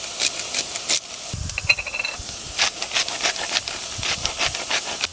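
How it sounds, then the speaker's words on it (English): Diced onion and capsicum sizzle and hiss in a hot pan, a steady crackle broken by scraping and stirring noises close by. "So in a pan, I'm going to throw in my onion and my capsicum that I've already diced up"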